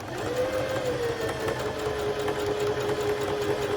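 A Bernette b05 sewing machine runs at slow speed, giving a continuous close mechanical hum with a steady whine and rapid light needle ticking, heard alone.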